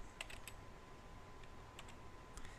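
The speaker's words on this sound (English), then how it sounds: "I'll simply type in purple dresses here." Someone types a short phrase on a computer keyboard, a few quick clusters of light key clicks close by and quiet, with a low background hum between bursts.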